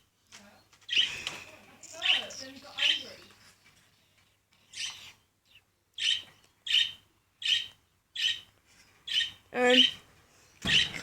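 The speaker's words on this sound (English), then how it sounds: "He's a male lutino Budgie." A month-old male lutino budgie gives a string of sharp, loud squawks and chirps close by, first in irregular bursts and then in an even, repeated series with short pauses between calls.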